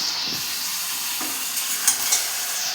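Ginger, chilli, cumin and onion pastes sizzle in a pan for chicken curry while being stirred, a close steady frying hiss with a few soft scrapes of the spoon.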